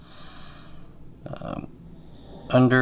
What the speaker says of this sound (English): You might hear my dog snoring in the background.